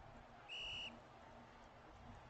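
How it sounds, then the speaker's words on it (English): Single short referee whistle blast in a college football video game, sharp and shrill against faint background noise, lasting under half a second. "As the whistle's going to be blown here."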